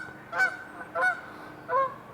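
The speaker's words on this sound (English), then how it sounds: "Incoming Canada Goose." A Canada goose honking in a marsh gives three clear, evenly spaced nasal honks about two thirds of a second apart, fairly close and standing alone against a quiet background.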